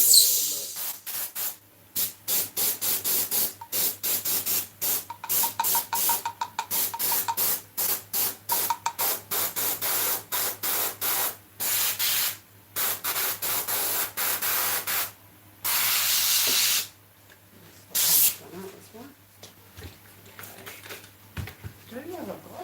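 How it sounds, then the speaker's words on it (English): Airbrush spraying paint in a series of loud, close hissing bursts, stopping and starting in an irregular rhythm with a few longer sprays, while a voice talks in between. "I know the airbrush is quite noisy now."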